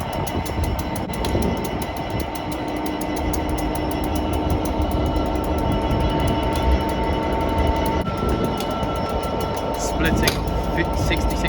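Freight train hauled by locomotive 59104 departing on the Acton Main Line, a loud close continuous rumble and rolling clatter of wagons and engine, with a person talking over it.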